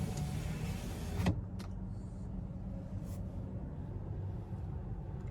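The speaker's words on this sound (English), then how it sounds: "you have a power rear window too" The power rear window of a 2022 Nissan Titan Pro-4X runs, a faint steady motor whir inside the cab with a soft click or thump early on and a low engine hum underneath.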